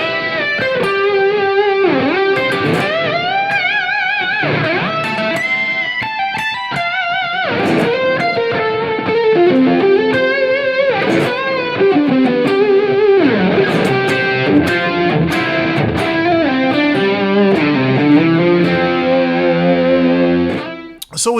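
Electric guitar played through a homemade tube amp with delay and pitch-shift effects, loud and continuous, shimmering layered notes and echoing repeats for about twenty seconds before cutting off.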